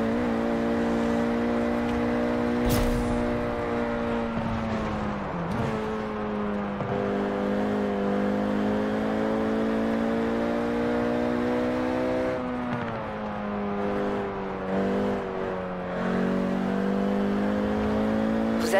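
Car engine driving in Forza Horizon 4, played with a Logitech G923 steering wheel: a steady harmonic engine drone that rises and dips with throttle across the whole stretch, with a few brief clicks and no talking.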